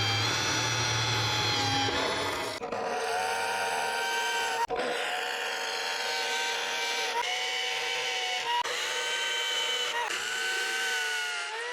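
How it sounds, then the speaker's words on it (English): A power drill bores holes into a gate pillar in a series of high whining bursts, pausing briefly between runs, with a low rumble at the start. "now that we have the holes drilled into the pillar"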